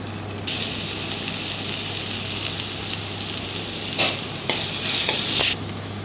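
Tomatoes fry with salt in a pan for egg chapati noodles, a steady sizzle broken by a few louder scraping stirs near the end, close and with no talking.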